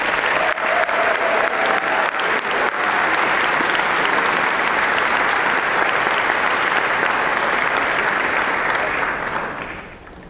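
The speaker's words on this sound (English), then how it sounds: "let's give a round of applause to our faculty" Sustained audience applause for faculty at a summer program closing ceremony, a dense, steady wash of clapping from a large crowd lasting about ten seconds before thinning out at the end.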